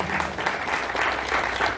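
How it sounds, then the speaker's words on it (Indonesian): An audience claps at a Bung Karno commemoration evening in Medan, a steady, moderately loud round of applause from a gathered crowd lasting the whole short stretch. "jadi kita harus tepuk tangan"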